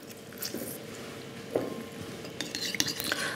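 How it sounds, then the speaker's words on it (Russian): A spoon mixes and mashes a duck-dish sauce of maple syrup, tamarind paste and lime juice, giving soft wet squishes and light scraping clinks against the bowl, close and fairly quiet, with no voices. "Смешиваем, все растираем"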